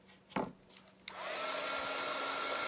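A hair dryer blowing on acrylic paint switches on after a couple of brief knocks and then runs as a steady, close, continuous whoosh and hum with no talking.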